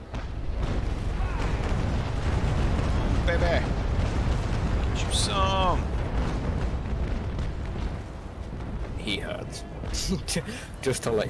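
Heavy naval cannon fire in a Naval Action sea battle, a sustained rumbling barrage of booms under excited player chatter, with a fresh volley near the end.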